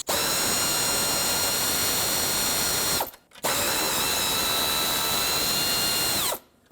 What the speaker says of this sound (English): Use an 8mm socket and remove both of the retaining bolts.